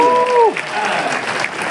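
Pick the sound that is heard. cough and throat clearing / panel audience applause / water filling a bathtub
panel audience applause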